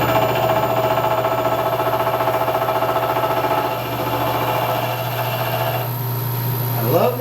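A Hardinge milling machine cutter bites into metal, giving a loud, steady, tonal grinding whine with a constant motor hum beneath and a shift in pitch near the end.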